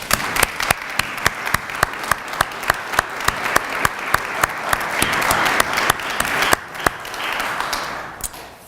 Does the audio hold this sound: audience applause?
yes